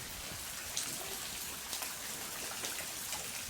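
Rain falls steadily in a constant wash of patter, with a few sharper drips standing out, and no one speaking.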